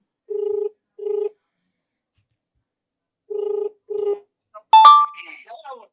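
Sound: telephone ringing while calling for a phone-in

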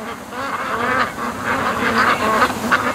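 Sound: panicked ducks quacking on a lake

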